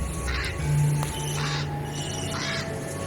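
A crow caws three times at an even pace, moderately loud, over a steady background hum in a staged Indonesian folk drama about a witch turning into a crow.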